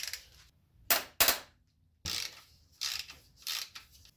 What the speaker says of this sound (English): We gotta remove this bolt from here.